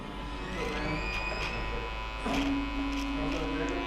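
Electric hair clippers set to a 1/8-inch guard trim a man's mustache with the grain, a steady close buzz running throughout with a slight shift in pitch partway as the blade meets hair.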